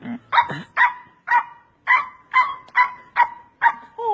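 A dog barks about nine times in a steady, even rhythm, close and loud, with only a faint whimper between barks and no talking.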